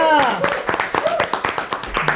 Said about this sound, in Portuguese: Uma salva de palmas para Tamires Bossan